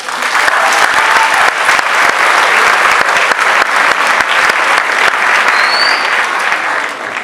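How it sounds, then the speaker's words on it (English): Loud, sustained applause fills the room at an 8th grade promotion ceremony, many hands clapping densely and steadily from start to finish before tapering slightly at the end. "So give a huge round of applause to them."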